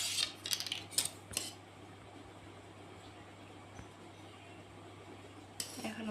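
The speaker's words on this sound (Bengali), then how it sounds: "এখন আমরা বাড়তি কাপড়টুকু কেটে নেব।" Scissors snip through the extra fabric of a garment sleeve being cut for a dress, giving a few quick, close, crisp cuts in the opening second and a half and another near the end, with quiet room hum between.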